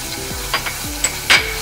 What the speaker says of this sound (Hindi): मसाला अच्छी तरह से भून गया है अपना